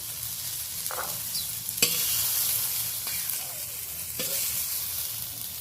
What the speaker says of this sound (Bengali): মটরশুঁটিগুলো এইভাবে ভেজে নিলাম